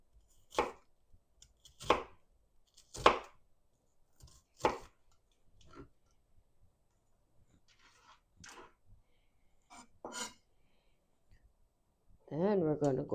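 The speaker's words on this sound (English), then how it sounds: "So here I'm just chopping the onion" Onion being cut into smaller pieces with a knife, a series of sharp, close chops at irregular intervals that grow softer and sparser, followed by a brief bit of voice at the end.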